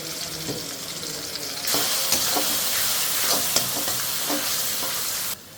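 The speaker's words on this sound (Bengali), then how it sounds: "আদা রসুন বাটা দিয়ে আমি একটু ভালো করে মশলাটা তেলের সাথে কাঁচা গন্ধটা না পর্যন্ত ভেজে নেব" Ginger-garlic and chili spice paste fries in hot oil with a steady, close sizzle that jumps louder partway through, broken by light stirring scrapes.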